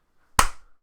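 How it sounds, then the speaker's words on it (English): A single sharp clap or slap rings out at a sports team's season schedule release event, a brief loud burst with a short decay rather than sustained audience applause. "Clap your hands, everybody."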